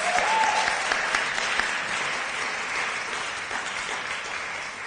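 An awards-ceremony audience applauds a speaker, a dense, even wash of clapping that begins strong and tapers slightly over a few seconds.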